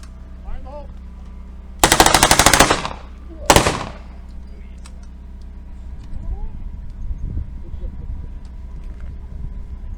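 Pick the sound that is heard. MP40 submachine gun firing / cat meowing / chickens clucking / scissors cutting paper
MP40 submachine gun firing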